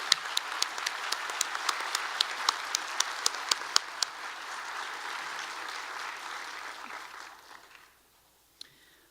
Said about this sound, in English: Class of 2018, please join me in a round of applause as we express our appreciation for each person here.